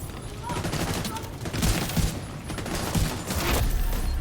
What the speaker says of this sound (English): I like what they've done with the aiming from cover, you know, shooting from cover. Blind fire.